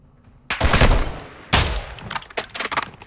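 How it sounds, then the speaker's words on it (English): Incoming gunfire in a multiplayer shooter video game: two loud, close bursts of shots, the first lasting about a second and the second sharper, followed by a scatter of quicker, lighter cracks. "I'm taking fire!"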